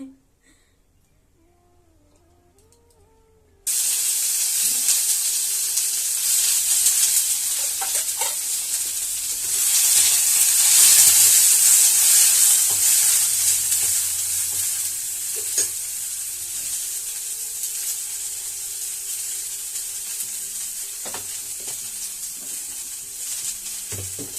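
Dried fish (shutki) with salt and chili frying in a pan, a loud continuous hiss of sizzling oil that starts abruptly after a quiet opening, with occasional stirring scrapes and a cat meowing faintly in the background.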